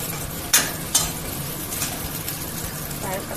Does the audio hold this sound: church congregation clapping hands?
no